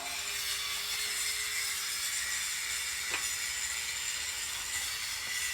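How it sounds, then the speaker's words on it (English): A trolley loaded with freshly made concrete paving bricks rolls along, giving a steady low rumble and faint metallic whine with occasional small knocks, fairly quiet and without talk. "Now we will use the trolley."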